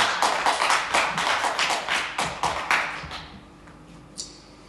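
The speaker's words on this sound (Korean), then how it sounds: "강사 목사님 나오실 때 박수로 환영하겠습니다" A Korean revival service congregation at a prayer retreat claps to welcome the guest pastor, a dense burst of applause that gradually thins and fades, with a single sharp tap near the end.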